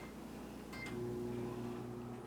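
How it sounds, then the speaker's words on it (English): A microwave oven hums steadily at close range while melting butter, a low constant drone with a brief click or beep near the start. "So I'm going to melt the butter for 45 seconds in my microwave."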